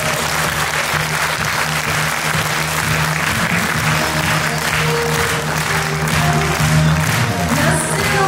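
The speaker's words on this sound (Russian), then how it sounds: "Громкие аплодисменты." Concert audience at a children's arts school anniversary gives sustained, dense applause with faint cheers and whoops, steady throughout over a low hum.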